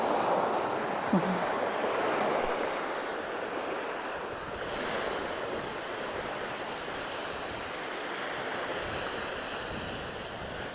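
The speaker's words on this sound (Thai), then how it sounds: "ทะเลค่ะพี่น้องเอ้ยทะเล ทะเลเดนมาร์ค่ะ" Sea waves roll onto the Danish coast in a steady, broadband wash of surf, with wind buffeting the microphone throughout and no voices.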